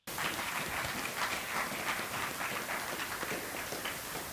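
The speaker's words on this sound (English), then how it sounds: "One more round of applause for them." A conference audience claps for a panel with steady, fairly faint applause from start to finish and no speech over it.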